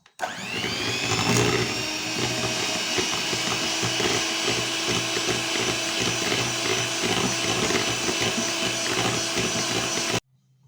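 Electric mixer whipping quark cheese with sugar, a loud steady whirring drone starting abruptly and running evenly for about ten seconds before cutting off.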